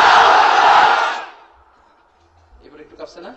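A large crowd at a religious sermon roars the Takbir response in one loud, sustained shout that fades out after about a second, followed by a voice speaking.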